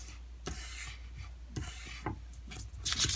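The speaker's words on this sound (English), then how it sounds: "And crease sharply." Folded paper for an origami football being creased sharply by hand, with several close rubbing and scraping strokes in short bursts, ending in a brighter crisp rustle and no voices.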